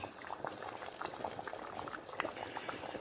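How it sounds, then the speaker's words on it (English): A pot of garden egg leaf soup boiling, with a steady stream of small bubbling pops and crackles. "The soup has been boiling for the past 7 minutes"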